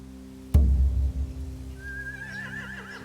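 Horse neighing in a video game, a low thump at the start, then a rising, wavering whinny near the end over a steady low hum.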